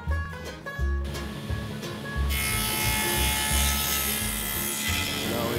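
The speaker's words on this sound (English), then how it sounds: "And now we're going to dado in our shelves." Power tool cutting dadoes for bookcase shelves in reclaimed bleacher board wood, a close buzzing whine that swells into a sustained loud cut after a couple of seconds, with rhythmic low thumps underneath.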